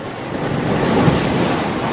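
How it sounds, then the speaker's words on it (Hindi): Flood water rushing and surging into a house, a steady loud roar of moving water like crashing surf, continuous and close throughout. "अरे पानी तो अब घर में भी आने लगा"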